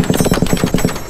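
An M2 heavy machine gun fires a steady burst of incendiary and ball rounds, about nine loud, evenly spaced heavy reports in quick rhythm with no pauses.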